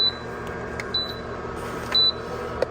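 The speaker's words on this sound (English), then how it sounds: "if yours is beeping like mine and you want to turn it off, just drop the door here, close it, and now it'll stop" A drop-in cargo fridge in a Tesla Model Y beeps three times, short high tones about a second apart over a faint steady hum.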